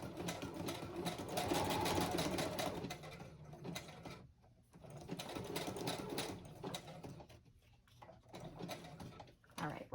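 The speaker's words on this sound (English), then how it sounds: "sewing machine's on" A sewing machine runs in steady mechanical bursts on a shared table, a close whirring stitch rhythm that pauses briefly twice before resuming.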